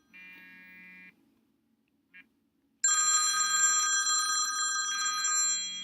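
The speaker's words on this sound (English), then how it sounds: "The ringing of my phone awoke me from my restless slumber." Phone ringtone: a short electronic ring, a brief chirp, then a louder sustained multi-tone ringing that carries on to the end, close and clear with no talk.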